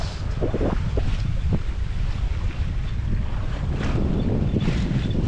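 A sailboat under sail with its motors off, heading north along the Antigua coast out of Jolly Harbour. Steady wind rush and water swish run loud and continuous, with waves slapping the hull and no talk.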